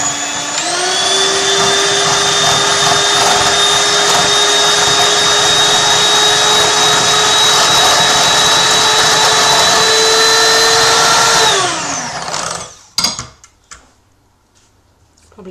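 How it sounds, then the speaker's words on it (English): Electric mixer beating butterscotch sauce in a bowl, a loud steady high whine that runs for about eleven seconds, then winds down and stops, followed by a few faint clinks. "I'm going to beat this really well using an electric mixer just because it saves your hands."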